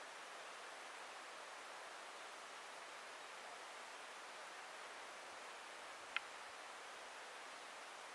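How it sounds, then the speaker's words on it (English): A river flows steadily in the background as a faint, even rushing hiss with no variation. A single brief click breaks it once near the end. "But you can still hear the river."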